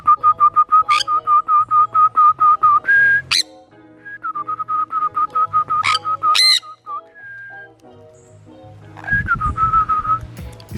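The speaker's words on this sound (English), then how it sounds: "see how these birds came down and started messing with me?" Birds in Jamaica give repeated loud, clear whistles in rapid pulsing series, broken by sharp squawks, close by with no talking.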